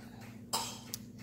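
A person coughs while drinking juice too fast, one short hacking burst followed by a smaller second cough, fairly close over a steady low background hum.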